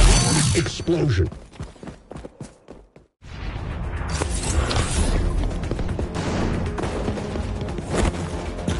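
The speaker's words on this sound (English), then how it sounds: "Explosion." Explosion in the video game XDefiant: a loud, dense burst of broadband noise after a brief near-silent gap, sustained rumbling and crackling debris with game sounds layered throughout.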